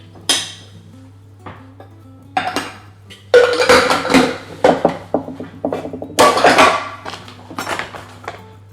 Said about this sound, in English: In goes the cauliflower.